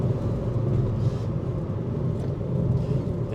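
Ford Fiesta ST Mk6 engine heard from inside while driving, a steady, loud low drone and rumble that holds without letup, with no talking.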